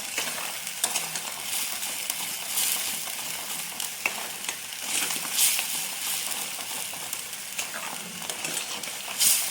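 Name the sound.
stirring and frying spice masala in a kadai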